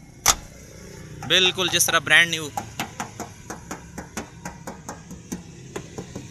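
A 1998 Suzuki Mehran's door is shut with a sharp thud near the start, followed by talk and a run of light, regular knocks or taps on the car body.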